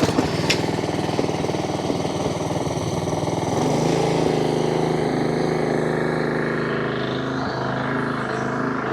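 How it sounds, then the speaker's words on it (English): A Honda HRX walk-behind lawn mower engine runs steadily at close range, a loud buzzing drone with a slight drop in pitch partway through, no talk. "I'm going to start the mower up"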